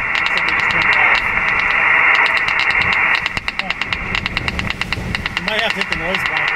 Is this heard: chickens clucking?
no